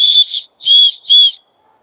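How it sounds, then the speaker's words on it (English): A plastic whistle built into a backpack sternum strap gives three short, shrill blasts, close and loud, each about half a second, with brief gaps between them and no talking. "Sternum strap with a whistle on it, right? And I got to blow the whistle"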